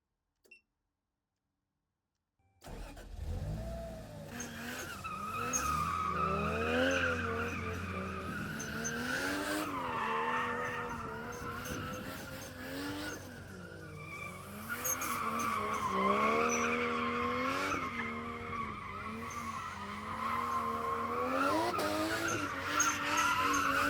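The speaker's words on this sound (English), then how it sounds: "Start your engine!" A car engine starts after a moment of silence and then runs and revs loudly and steadily for about twenty seconds, its pitch rising and falling with the throttle, the cabin recently fitted with sound deadening.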